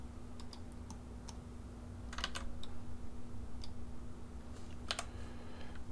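Scattered computer keyboard keystrokes while working in Blender 3D modelling software, quiet clicks arriving singly and in short clusters over a steady low electrical hum, with no talking.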